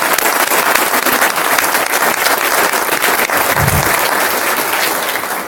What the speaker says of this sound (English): let's give a round of applause to the U.S. Marine Corps Junior ROTC again